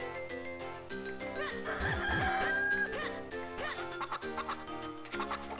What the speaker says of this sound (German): Komm her, Huhn.